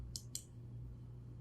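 Two quick, sharp mouse clicks about a fifth of a second apart, close and crisp against a quiet, faintly humming room.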